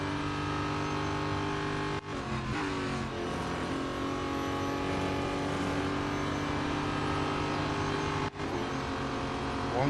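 Race cars roar continuously in the mobile racing game Real Racing 3, a loud, steady engine drone with shifting pitch as cars accelerate and overtake, interrupted by two brief gear-change dips.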